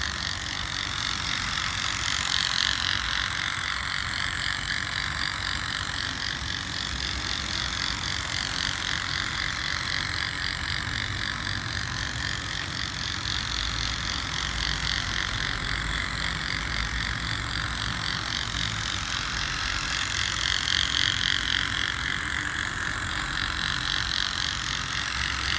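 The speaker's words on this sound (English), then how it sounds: "The drive wheel is sliding on the wet surface." Vintage Radio Shack Formula One Racer toy car running in a car park, its drive wheel sliding on a wet surface: continuous whirring motor and ratcheting gear noise with a steady sliding hiss, close and unbroken throughout.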